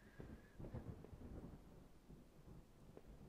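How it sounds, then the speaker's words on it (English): Faint low thunder rumbles through steady rain in the video game Home, a soft continuous storm bed with a thin tone near the start and no talking. "It's just thunder."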